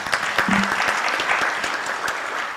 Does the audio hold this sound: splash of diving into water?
no